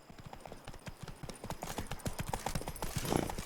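Roach the horse gallops in The Witcher 3, rapid clip-clop hoofbeats in a steady driving rhythm, close and fairly loud, with a brief snort or whinny near the end over outdoor ambience.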